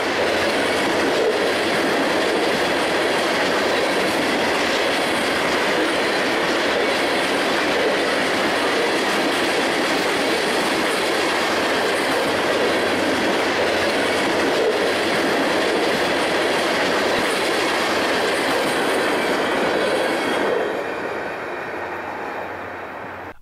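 A freight train on the BNSF Hinckley and Lakes Subdivisions rumbles past close by, steady and loud, with rhythmic clickety-clack of wagons on the rails throughout before easing off in the final seconds.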